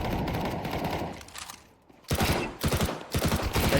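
Counter-Strike gunfire rattles in loud bursts, a sustained volley that fades briefly before several sharp rapid shots resume.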